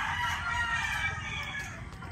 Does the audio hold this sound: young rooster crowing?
yes